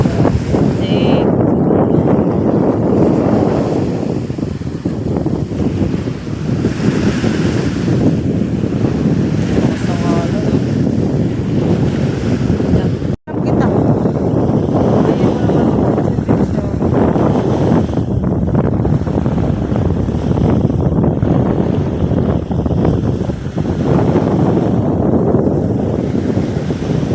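Wind buffeting the microphone with rolling surf on a hot beach, a loud, steady roar that swells and eases, with a brief dropout midway and no clear speech.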